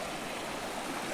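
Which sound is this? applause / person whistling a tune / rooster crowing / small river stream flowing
small river stream flowing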